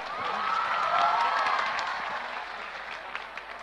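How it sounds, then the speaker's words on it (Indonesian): A burst of crowd applause at a university lecture swells and then gradually thins out, with a few scattered claps trailing off at the end. "Berikan tepuk tangan 5 juta untuk Naya."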